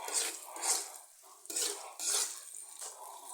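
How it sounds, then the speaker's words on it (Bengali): Vegetables or potol peels frying in a pan for a Bengali bharta, stirred with metal scraping and clinking against the pan over a soft sizzle, in close bursts with no talking. "এই পর্যন্ত আমি খুবই সুন্দর করে ভেজে নিচ্ছি"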